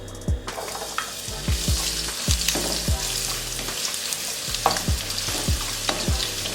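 Carrots sizzle in about two tablespoons of hot oil in a pan over a medium flame for Jamaican escovitch fish, a steady close frying hiss punctuated by repeated scraping stirs.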